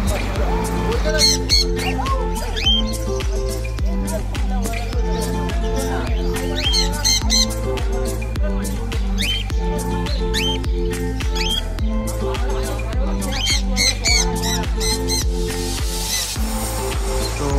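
Green cheek conures squawk and chirp repeatedly at a busy pet market in Garia, with sharp calls overlapping a steady crowd murmur and talk.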